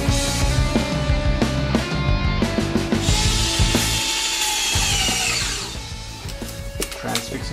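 A power drill driving a 5 to 6 mm transfixing pin while a Hoffmann 3 external ankle fixator frame is built, heard as a loud whirring motor with shifting pitch and pauses, mostly without talk.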